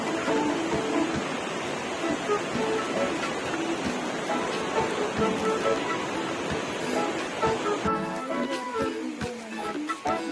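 Rain falls steadily on a mountain trekking trail to Kheerganga, a dense close hiss with scattered heavier drops, while voices murmur faintly underneath.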